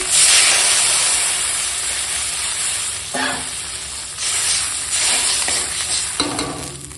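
Water hits hot fried spices in a pan, setting off a loud sizzle and hiss that gradually settles, broken by a few stirring scrapes near the end.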